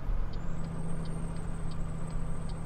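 A heavy truck's engine brake in Euro Truck Simulator 2 gives a steady low rumbling drone, with a faint high tone and soft repeated pings above it.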